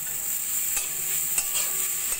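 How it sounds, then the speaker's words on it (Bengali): Grated paneer is being stirred with spices in a frying pan, giving soft scraping stirs over a faint steady sizzle, close and without talk. "পনির ভালো করে সব মশলার সঙ্গে মিশিয়ে নেব।"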